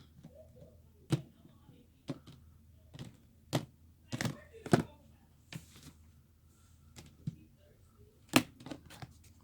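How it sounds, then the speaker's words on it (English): Cards are shuffled and tapped in a series of sharp, irregular snaps and thunks, close by, with soft handling noise in between. "I'm only shuffling, and we're already getting like repeat cards and stuff."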